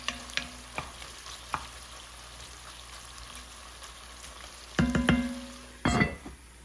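Smoked sausage browning in a pan for soup, with a low steady sizzle under scattered sharp scrapes and stirring clatters, and two louder bursts of stirring near the end.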